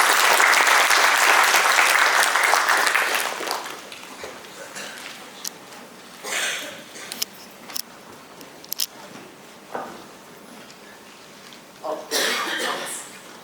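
Conference audience at RSG 2025 in Bengaluru applauding to welcome a speaker, a loud burst of clapping that fades after a few seconds into scattered claps, coughs and rustling, with speech following.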